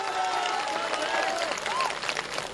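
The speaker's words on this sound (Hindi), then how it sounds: "सब तालियां बजाओ" A large crowd at a mushaira poetry gathering claps and cheers in a dense, continuous roar of applause, with whistles rising above the noise.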